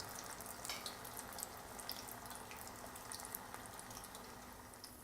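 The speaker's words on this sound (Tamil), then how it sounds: "இப்போ ஒரு வடையாக எண்ணெயில் போட்டு ஃப்ரை பண்ணி எடுக்கணும்" Banana flower vadai frying in groundnut oil, giving a quiet, steady bubbling sizzle with scattered small crackles and no voices.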